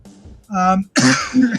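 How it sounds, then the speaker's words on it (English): A couple of short throat-clearing coughs up close, one after another, with a brief voiced sound between them. "I've got a bit of a cough"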